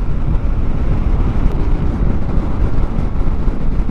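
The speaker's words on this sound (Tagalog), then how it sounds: "Lakas ang hangin." Strong wind buffets the microphone outdoors in Santa Cruz, Laguna, a loud, continuous low roar with no let-up and no voices.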